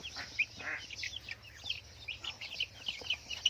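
High, thin chirps repeat in quick bursts, fairly faint with a low steady hum underneath; Rhode Island Red chicks peeping close by.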